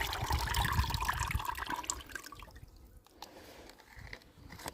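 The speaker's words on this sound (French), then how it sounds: "Ça permet de rincer un peu." Water running and splashing while rinsing, apparently in aquarium upkeep around a giant vallisneria plant; the flow is steady and fairly loud at first, then thins to quieter trickles and drips.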